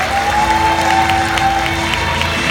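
Audience applause fills a lecture hall after a business leader's talk, a dense, steady clapping that holds loud and close throughout with a few scattered cheers mixed in.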